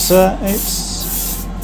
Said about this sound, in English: I'm just spraying primer onto this vase